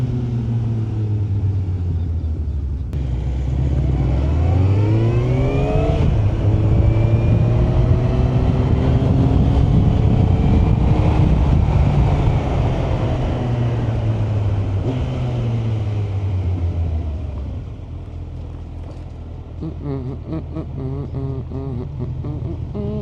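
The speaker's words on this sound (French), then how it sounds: "Et même le bruit du KTM 2 cylindres là, bicylindre." A KTM twin-cylinder motorcycle passes close by on a city street, its engine note rising and sweeping as it approaches, peaking loudly, then falling away over several seconds, with steady traffic rumble beneath.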